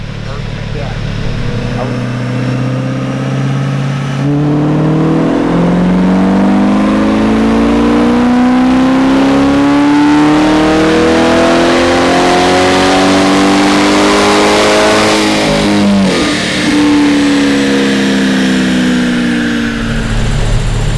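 A Corvette C8 sports car engine revs loudly through a throaty custom exhaust, pitch climbing steadily then dropping and rising again, close and continuous.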